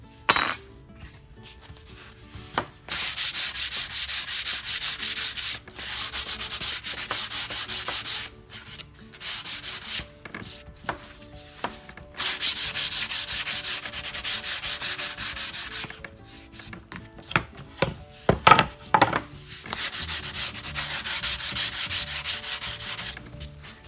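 Hand sanding across the end grain of veneer edge banding, a series of brisk back-and-forth rasping strokes in bursts with short pauses between, close and fairly quiet, with an occasional light clink.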